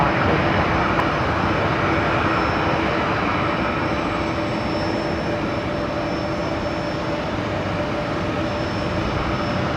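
An Airbus A321neo at Brisbane Airport gives off a loud, steady, close engine roar that holds constant with no break throughout, and no voices are heard.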